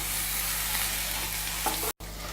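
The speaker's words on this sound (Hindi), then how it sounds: "अब आलू को हम हिला दें।" Garlic-coated potatoes, Kathiyawadi lasaniya batata, stirred in a pan, giving a soft steady sizzle and scraping for a couple of seconds, then a brief gap and a final clatter; no voices.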